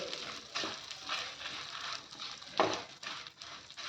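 Urad dal and red chillies are fried in oil in a pan, a soft close sizzle broken by stirring scrapes and one sharper clatter of the spoon against the pan.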